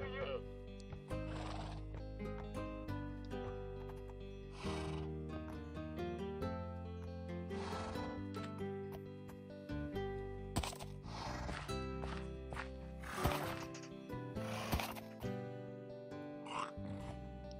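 A horse in a fantasy building game whinnies repeatedly while hooves clip-clop, set over continuous game music, with loud neighs recurring throughout and no one talking.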